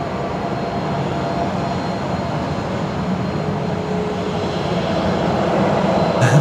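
A Velocity 1402 service on the move at Brisbane Airport, its engines giving a steady, broad rumble that swells slightly toward the end, heard from a distance without talk.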